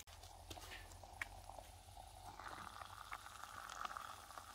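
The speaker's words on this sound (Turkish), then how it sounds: "Çay suyumuz güzel güzel kaynıyor." Tea water comes to a boil outdoors in a village kitchen, a faint, steady bubbling and hiss with a few small clinks and soft knocks, no talking.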